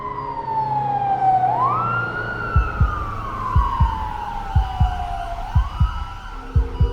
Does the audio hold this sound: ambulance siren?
yes